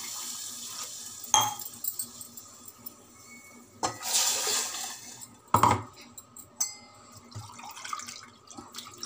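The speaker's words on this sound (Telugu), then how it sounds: "ఇప్పుడు దీనిలో వాటర్ యాడ్ చేసేద్దాం।" Water poured into a pot of carrot rasam made with a spice paste, heard as a gentle splashing trickle with a few clinks and knocks from the vessel, fairly quiet with no talk.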